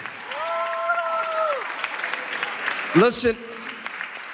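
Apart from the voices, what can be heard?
audience applause for speakers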